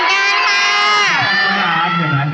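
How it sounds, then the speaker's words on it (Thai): Crowd cheering loudly at a live event, a dense wall of high shouts and screams from many voices, close and sustained throughout before fading slightly at the end. "ขอเสียงให้กับพี่นิวอีกหนึ่งครั้งครับ"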